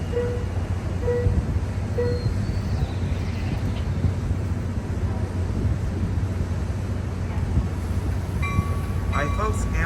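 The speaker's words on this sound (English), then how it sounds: "Amtrak Capitol Corridor Train 536 to Sacramento" Amtrak Capitol Corridor passenger train at Emeryville station, a loud steady low rumble of the train at close range with brief tonal beeps and a high whistling squeal near the end, no talking.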